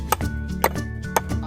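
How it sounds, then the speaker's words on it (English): Wood is chopped off a garden bed with three evenly spaced, sharp chopping strikes. The blows land close, each a crisp thwack over a low steady hum. "I'm going to basically chop it off."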